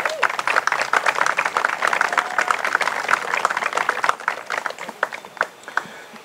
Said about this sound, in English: I'd like a round of applause to acknowledge them as well.